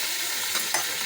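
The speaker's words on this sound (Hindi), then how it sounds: "मसाले को अच्छे तरीके से भून लें" Spices with salt and a splash of chicken stock sizzle in a pan for Lahori chicken pulao, a close, even hiss with two quick scraping stir sounds near the end.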